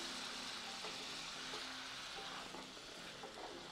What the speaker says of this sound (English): deglaze just to loosen up all that... those juices on the... on the bottom there